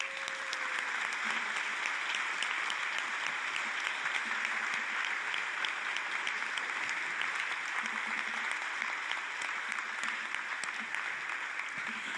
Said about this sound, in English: give our applause to these 5 great candidates